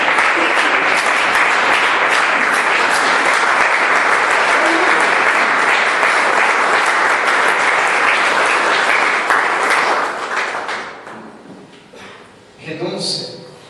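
A standing church congregation applauds loudly and steadily for about ten seconds, then dies away into a few scattered claps, with a voice rising briefly near the end.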